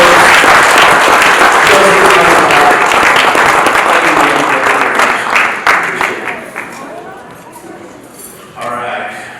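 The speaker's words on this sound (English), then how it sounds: "So, big round of applause for Andy." Loud applause from a crowd at a youth wrestling banquet, a dense burst of clapping that gradually thins and fades, with a brief renewed swell near the end and voices mixed in.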